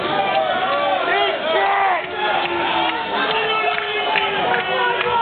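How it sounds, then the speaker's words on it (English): A rock concert crowd roars and chants together in loud, ragged unison, voices rising and falling in wordless bursts that carry on continuously. "Hey, can we get a chant going?"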